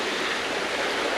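A Vermont river, its flow slowed by debris and obstructions, gives off a steady broadband rushing and babbling wash. The sound is close and constant through the short moment, with no voices.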